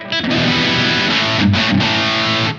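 Electric guitar through a Blackstar Dept 10 Dual Distortion pedal, a short burst of heavily distorted chords with a brief break in the middle, loud and close with no talking.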